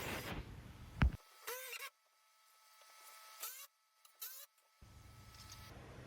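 A power drill or driver runs in several short bursts, whining up and stopping, as screws drive a 2x6 board into ceiling studs in a garage, with a sharp knock and brief silences between the bursts.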